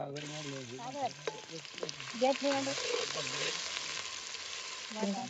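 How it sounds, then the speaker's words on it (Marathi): Steady sizzling of frying food fills the clip, with a louder burst partway through as chopped onion and whole spices go into the oil, under a background melody. "खडा मसाला कांदा हे चिरून घेतलेला आता टाकून घ्यायचे"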